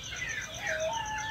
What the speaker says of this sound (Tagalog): ito na yung ating manok na pinakain kaninang 6 AM